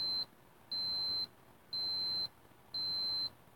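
An alarm gives four evenly spaced long electronic beeps, each about half a second, loud and close, with quiet room tone between them and no talking.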